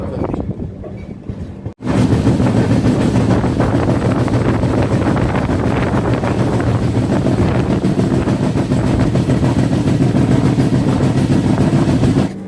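The Udyan Express, train no. 11301, rolls along the rails between Dadar and Bengaluru, a loud continuous rumble with wind noise that surges in after a brief quieter moment and holds steady.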